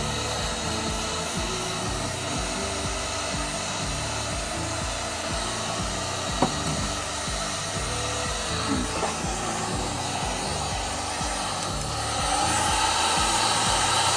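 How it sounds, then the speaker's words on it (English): A cheap Black & Decker heat gun runs on its low setting for car plastic trim restoration, a steady loud broadband fan-and-air roar that continues unbroken throughout, with a few faint knocks partway and a slight rise near the end. "this is just a bog standard heat gun. It's a cheap Black & Decker one"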